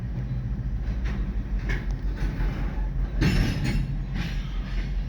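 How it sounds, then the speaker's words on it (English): A loaded coal train rolls along the track at close range, a continuous heavy rumble with faint metallic clinks and wheel squeals rising and falling over the steady low drone. "We're gonna get this train out of here"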